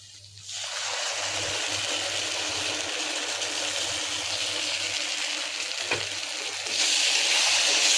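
A yogurt, spice and cashew mixture hits a hot kadai for a homemade doi katla fish curry, bursting into steady, close sizzling frying that swells louder toward the end.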